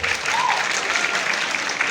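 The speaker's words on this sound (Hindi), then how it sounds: "वो तालियां बजाने लगते हैं" Audience at a university meetup breaks into steady, dense applause. The clapping fills the whole moment, close and full, with no pauses and no talk over it.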